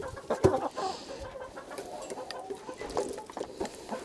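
Chickens cluck and peck at scrambled eggs laid out on a wooden board, with soft, irregular clucks and quick tapping pecks close by throughout.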